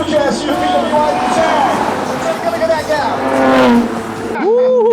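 Cars race along a road as a Porsche 911 tries to catch up, with engine whine rising and falling beneath a talking voice throughout.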